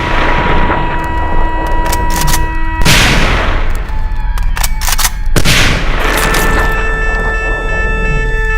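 Gunfire from the 1916 Easter Rising street fighting in Dublin, when dispatch rider Gerald Keogh was shot: sharp loud reports and bursts crack out over a dense, noisy background, with a few heavy blasts standing out.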